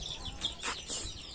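A farm rooster gives a few short clucks and chirpy calls, moderately close, in an otherwise quiet outdoor setting with no talking.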